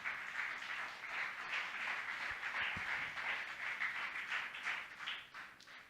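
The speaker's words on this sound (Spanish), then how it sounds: "Póngase de pie y dele un fuerte aplauso al Señor por su palabra" A church congregation on its feet applauding in praise, a steady wash of many hands clapping at moderate distance with no talk over it.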